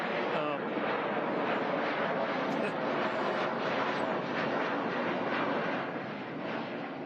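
A fixed-wing airplane passes overhead at an outdoor groundbreaking ceremony, a steady loud roaring engine wash that runs throughout and swamps the setting.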